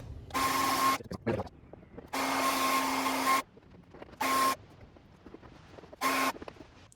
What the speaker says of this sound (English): we still need your heat gun or blow dryer